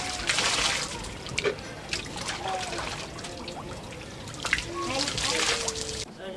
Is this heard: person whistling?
no